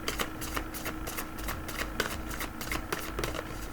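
Tarot cards handled and shuffled, a quick run of soft riffling flutters and papery slaps repeating in a steady rhythm, close and fairly quiet.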